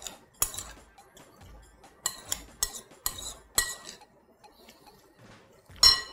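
Metal spoon stirring sausage and onions in a pan, a series of sharp clinks and scrapes at irregular intervals, close and bright, with quiet gaps between strikes.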